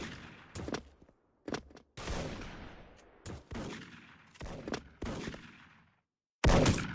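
Gunfire in a shooter video game comes as sharp, loud bursts of shots separated by brief silences, with decaying echoes between volleys and one heavy blast near the end.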